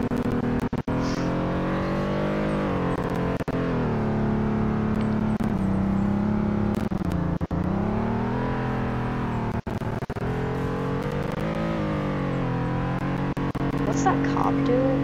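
A compact SUV crossover family car in the Greenville driving game, its engine giving a steady, continuous drone with gently rising and falling pitch as it drives, loud and close throughout with no speech.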